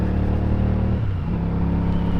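A CFMoto 450CL-C motorcycle engine hums steadily while being ridden through curves, with a loud continuous drone whose pitch dips briefly mid-clip and then settles again.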